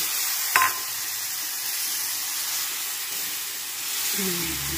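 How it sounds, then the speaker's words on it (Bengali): Ground cumin, ginger and green chili paste fries with potatoes in a pan, a steady close hiss and sizzle with a sharp clatter near the start and a voice entering at the end. "বেটে রেখেছি জিরে আর আদা কাঁচা লঙ্কা। তো এটা আমি এখন দিয়ে দেবো, দিয়ে ভালো করে কষিয়ে নেব।"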